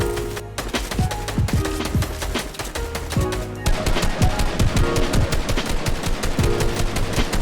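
Rapid bursts of automatic gunfire in a Fortnite battle, loud and dense, with overlapping shots from more than one weapon and sharp individual cracks layered over a busy game soundscape with no talk.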